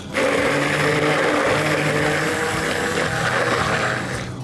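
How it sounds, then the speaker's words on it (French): An immersion blender emulsifying melted white chocolate for a bûche, a loud steady motor whir with wet churning that starts abruptly and runs throughout, easing slightly near the end. "On passe le mixeur."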